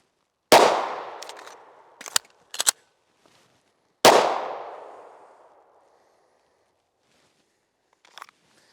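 A pistol fires two sharp, loud shots a few seconds apart, each ringing out with a decaying echo across an outdoor range, with metallic clacks of the empty magazine dropping and a new one seated in between.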